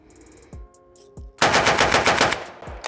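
Loud rifle shots crack nearby from a rifle fitted with a pepper pot muzzle device: two single shots, then a rapid burst of sharp blasts fired in quick succession, with no voices.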